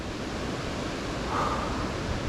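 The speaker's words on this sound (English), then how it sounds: "That little waterfall's over there behind that rock." A small waterfall in a gorge hisses as a steady, broadband rush of falling water, constant and fairly loud, alone without voices.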